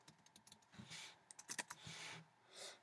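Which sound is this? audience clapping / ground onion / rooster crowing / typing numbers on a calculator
typing numbers on a calculator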